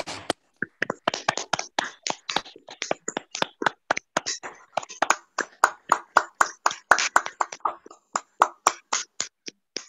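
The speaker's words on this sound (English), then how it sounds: "Can we please give David a round of applause?" An online audience claps over unmuted microphones, a steady stream of sharp, separate hand claps from several people, close and dry, with no talking.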